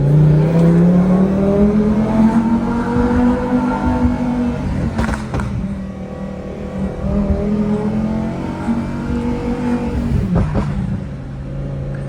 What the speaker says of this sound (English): I'll put it in manual mode and let you guys hear why I like this car so much.